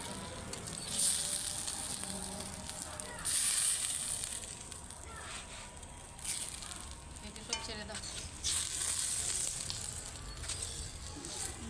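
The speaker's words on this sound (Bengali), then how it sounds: "মাছগুলো দিয়ে দিচ্ছি বন্ধুরা, ঝোলে দিয়ে দিচ্ছি মাছগুলো।" Boal fish pieces simmering in a Bengali home-style curry gravy: a continuous bubbling sizzle with intermittent stirring and scraping, moderately loud and close, with no one talking.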